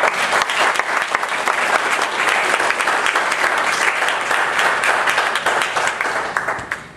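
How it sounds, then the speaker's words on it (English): A church camp meeting congregation breaks into loud, sustained hand clapping, dense crisp claps lasting about seven seconds before beginning to fade at the end. "Give the Lord a hand clap."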